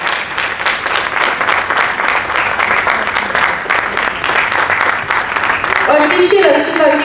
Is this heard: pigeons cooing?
no